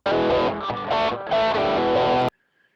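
A heavily distorted electric guitar, driven hot through a transformer, plays a short chord riff with brief gaps, then cuts off abruptly into silence.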